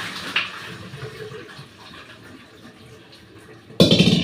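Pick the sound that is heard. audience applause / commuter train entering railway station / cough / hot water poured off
hot water poured off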